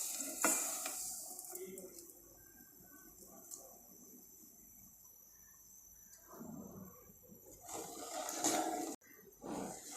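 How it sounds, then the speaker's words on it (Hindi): Sugar in an orange marmalade mixture is stirred in a pan as it cooks, with soft scraping and faint sizzling in bursts, while a voice talks in between. "इसको हम इसी तरह स्टर करते हुए पकाते रहेंगे जब तक हमारी शुगर मेल्ट नहीं हो जाती।"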